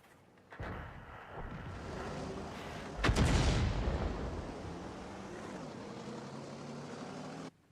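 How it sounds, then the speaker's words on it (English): Artillery fire in a tank video game: a long rumbling roar with a sharper heavy boom midway, then sustained noise that cuts off abruptly at the end. "Fighting with artillery, they can be very inaccurate."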